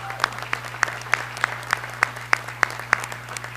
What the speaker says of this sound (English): So a quick round of applause.